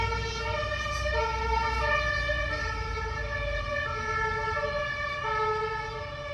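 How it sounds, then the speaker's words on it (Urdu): An ambulance siren wails in a steady repeating cycle of rising and falling tones, loud and close over low traffic rumble, without fading. "ذرا ایمبولینس"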